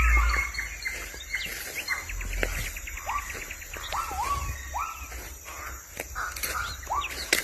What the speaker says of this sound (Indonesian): Nah, gagak diserang ku sairan.